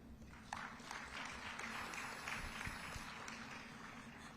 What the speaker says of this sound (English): Another round of applause for the Secretary General of the Uganda Red Cross Society, Mr. Kwesiga.